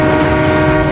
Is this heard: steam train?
yes